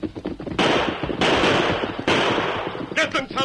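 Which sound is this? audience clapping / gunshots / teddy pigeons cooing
gunshots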